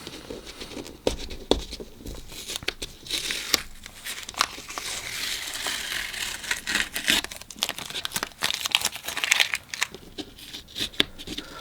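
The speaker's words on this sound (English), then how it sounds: "Maybe we'll take the tape off and see how it looks with the natural border of the tape." Masking tape is peeled away from the edges of a watercolor painting of backlit flowers, a run of crackling, tearing rips and crinkles that come in uneven bursts, close and fairly loud.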